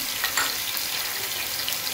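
Onions browning with garlic, ginger and spices in butter in a pan make a dense, constant close sizzle throughout, loud and even with no voices.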